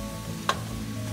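Butternut squash pieces frying in a pan give a steady low sizzle throughout, with one brief sharper clink or stir sound near the middle and no talk.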